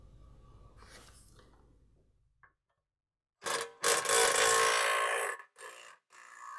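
A skid plate is worked loose and pulled down from beneath a Honda with a 3.5-liter engine: faint rustling first, a short pause, then loud close scraping and rubbing bursts of metal and plastic.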